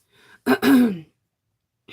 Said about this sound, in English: I'm sorry if I clear my throat